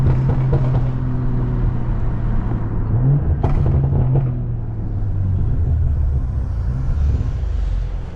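A 500hp BMW M340i accelerates hard from 0 to 60, its engine a loud, steady rumbling drone from inside the cabin, the pitch climbing and dropping briefly with gear changes before easing off.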